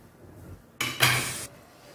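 Cooked dal and vegetables are tipped into a pot for kadamba sambar, making one short, close, wet clattering slosh against the metal that lasts under a second in an otherwise quiet kitchen.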